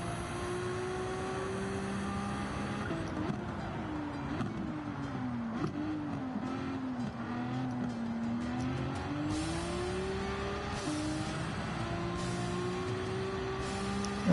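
A race car lapping the Spa circuit at night in Gran Turismo, a Japanese car near 700 PP, its engine droning steadily with rising and falling pitch through gear changes, with occasional tire noise throughout.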